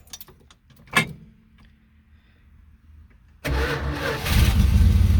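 A 1973 Plymouth Cuda engine cranks and fires: a few quiet clicks and a brief starter whir, then the engine catches abruptly and settles into a loud, rumbling idle with a rising surge of revs, close by and with no talking.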